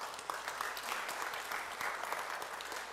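Congregation clapping for a departing member in a church gathering, dense sustained applause from many hands, fairly distant and even.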